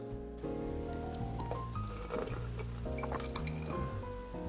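Hot water is poured over a paper coffee filter into a glass, with a continuous trickle and ringing glass tones, light clinks close by, and no voices.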